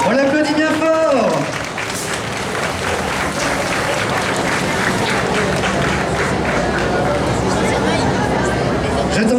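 Crowd at a cosplay contest awards ceremony claps loudly and continuously for a contestant, a dense, sustained applause with crowd chatter mixed in and a voice speaking briefly at the start.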